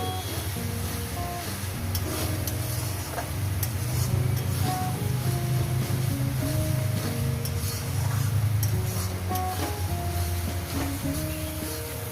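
Spice masala for a fish curry sautés in a pan, giving a steady, continuous sizzle at moderate loudness for the whole stretch, with no voices.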